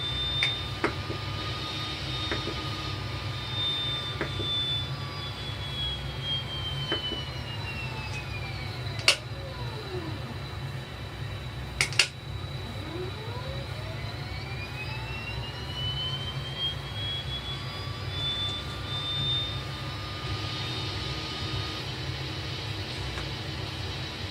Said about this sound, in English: Well, I've got enough volts to start. Oh, let's go. Right hand engine.